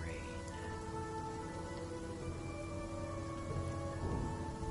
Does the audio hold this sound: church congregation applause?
no